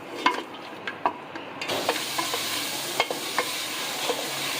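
Chicken frying in hot oil over a low flame, a steady close sizzle with scattered sharp clinks and scrapes of stirring, and no talking.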